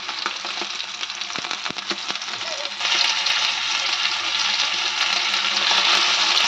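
Curry leaves sizzle and spit in hot oil for a garfish curry, a loud, steady frying hiss that swells sharply about halfway through as the leaves hit the pan, with light stirring clatter and no talking.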